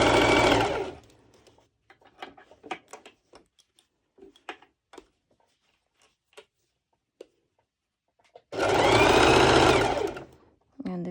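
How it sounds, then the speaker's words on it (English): A sewing machine set to its longest stitch length runs loud in two bursts while stitching bikini fabric, with quiet clicks and handling noises in the gap between. "My stitch is on 4, is on max, and I go ahead and I start pulling and stitching."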